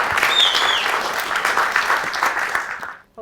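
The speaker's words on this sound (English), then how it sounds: "Make more noise for Andrew." An audience at a university lightning-talk event bursts into loud, steady applause that carries for a few seconds before cutting off.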